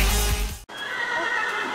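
A horse, a Pegasus in Minecraft, gives a loud, close whinny, followed after a short gap by a thinner, quieter neigh.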